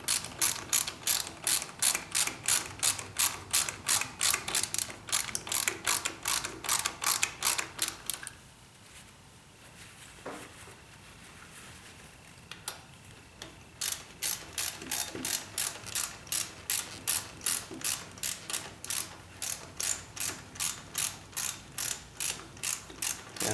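A ratchet clicks in fast, even bursts while tightening a bolt on a Harley-Davidson 48 front fender, with a pause of quieter handling midway before the rapid clicking resumes, close and loud.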